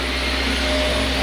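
A Shark vacuum cleaner runs on a dirty carpet with a steady, loud whooshing motor drone and a low hum, unbroken throughout and with no talking.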